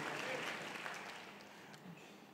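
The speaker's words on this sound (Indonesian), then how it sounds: "Kita tepuk tangan yang meriah bagi Kristus Yesus Tuhan kita." A church congregation claps enthusiastically, a dense, steady wave of applause that fades slightly toward the end with no speech on top.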